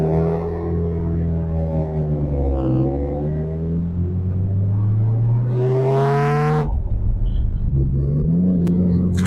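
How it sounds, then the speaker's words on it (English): A Nissan R34 GTR pulls away, its engine note rising and falling through the revs with a loud, close rumble, a sharp gear change cutting the drone before it climbs again. "All right, first time driving the GTR."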